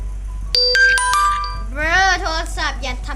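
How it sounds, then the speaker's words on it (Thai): A chiming notification tone rings out close to the microphone, a few bright separate pings over about one second, followed by a voice speaking. "การแจ้งเตือนใกล้ไมโครโฟน"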